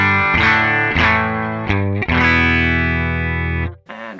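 An electric guitar plays distorted chords through a Line 6 Helix amp model with no effects, loud and sustained with a gritty, dry tone, several strums ringing out before a final short hit.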